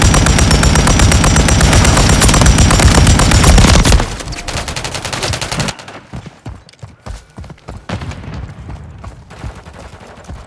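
PULEMYOT 762 machine gun fire from Call of Duty Modern Warfare 3 multiplayer rattles loud and continuous for about four seconds, then gives way to scattered, more distant gunfire bursts.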